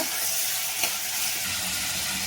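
Potatoes fry in a pan while being mixed, giving a steady, close, hissing sizzle throughout with a faint scrape partway and no talk.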